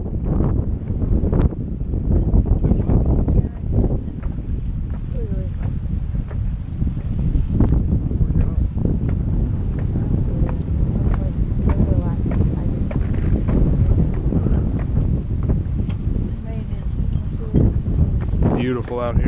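Wind buffets the microphone aboard a sailboat off Martha's Vineyard, a loud continuous roar with irregular thumps and gusts, with faint talk now and then underneath.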